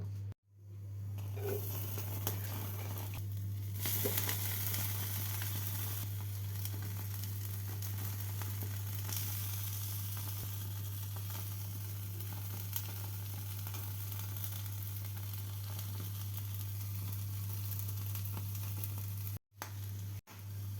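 Tandoori chicken on skewers over a gas stove sizzles in a steady, loud, close frying hiss that runs unbroken for about twenty seconds under a low constant hum, with a brief dropout near the end.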